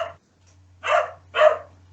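A dog barks close by: one bark fading at the start, then two loud barks about half a second apart over a faint low hum.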